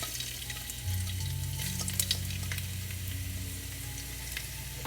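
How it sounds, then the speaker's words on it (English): Ginger and garlic fry in hot oil with a steady, close sizzle and crackle, occasional sharper pops and a faint stirring rumble underneath, no talking. "I'm going to allow it to fry a little bit"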